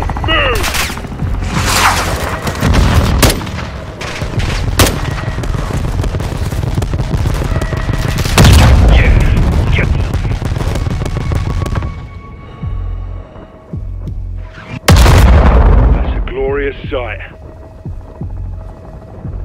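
Air strike explosions and heavy gunfire in Call of Duty Modern Warfare 2, with dense rattling fire and several big booming blasts close by, one heavy explosion near the end after a brief lull, and voices under the din.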